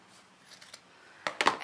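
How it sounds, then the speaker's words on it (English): Scissors snip fabric close to a sewn seam on a beginner sunglasses case, a few faint cuts early and then three louder, crisp closely spaced snips near the end, with no voices. "I'm gonna go ahead and trim this closer to my seam"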